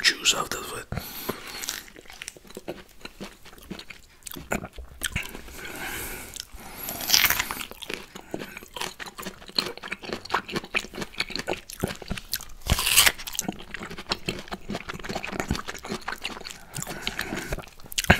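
Juicy orange slices and mango are bitten and chewed close to the microphone, with wet squishy crunches and smacking sounds repeating in irregular bursts. Soft whispering drifts in between bites.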